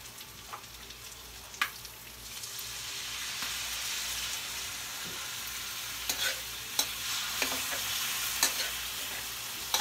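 Pork humba with soy sauce is stirred in a frying pan: a continuous sizzle under scattered scraping clicks and knocks of the spoon, close and moderately loud, with no talking.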